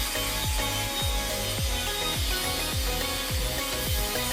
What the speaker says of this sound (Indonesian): Potongan MDF kemudian dilubangi sebagai tempat panel volume dan lainnya.